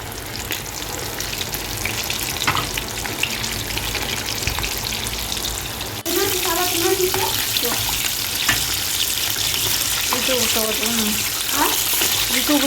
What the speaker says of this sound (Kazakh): Майға салып, жақсы қуырып аламыз.